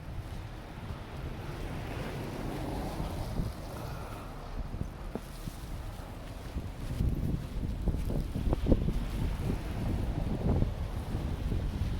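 Strong gusting wind in a Nor'easter snowstorm in Halifax buffets the microphone with low rumbling bursts that grow heavier and louder toward the end, with no speech.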